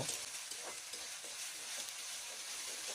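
Crab being sautéed with spices in a pan, a soft, steady sizzle with faint stirring scrapes, quiet and close with no talking.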